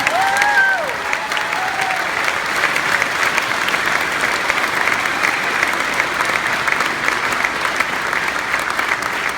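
An outdoor rally crowd applauds the musicians who performed, sustained even clapping that holds at a steady level throughout, with a few brief whistles near the start.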